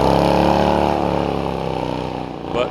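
A Morgan racing car with a post-war JAP engine at Prescott hillclimb drones past with a loud, steady engine note that slowly fades, followed by a brief rise near the end.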